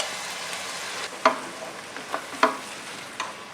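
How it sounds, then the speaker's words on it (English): Two cans of unrinsed black-eyed peas stirred into a sizzling pot of Hoppin' John, steady frying hiss with a few spoon scrapes and knocks against the pot, close, no talk. "And you just kind of stir it in"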